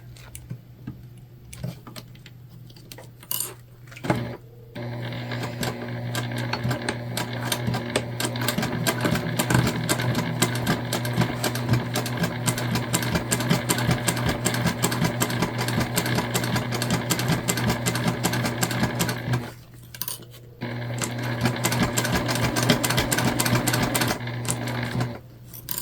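A sewing machine runs steadily, stitching a pouch made from a dish drying mat. The fast, even rattle carries on for long stretches, stopping briefly twice before starting up again.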